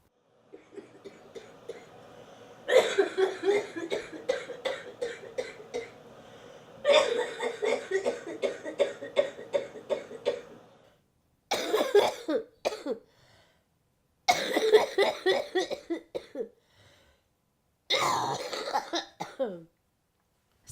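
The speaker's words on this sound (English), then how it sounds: "Sometimes it's unbearable to watch her cough." Bursts of harsh, rapid coughing from a woman come in several long fits separated by short silences, close and loud, with a few strained gasps between them.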